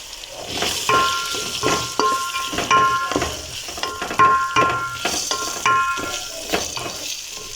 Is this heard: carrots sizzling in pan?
yes